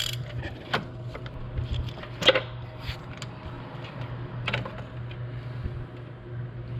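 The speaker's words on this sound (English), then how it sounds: "not quite sure why I'm struggling to get this spark plug out here. Something with my spark plug wrench" Spark plug wrench clicking and ratcheting on a 2006 Jeep Liberty 3.7L engine's spark plug, scattered soft metallic ticks with one sharper click, over a steady low hum.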